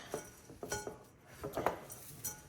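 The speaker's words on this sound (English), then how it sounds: "you want to go ahead and mix all your dry ingredients" Dry granola ingredients, including mocha and matcha flavourings, being mixed in a bowl: soft scattered clinks and scrapes of a utensil against the bowl, close and quiet, with no talk.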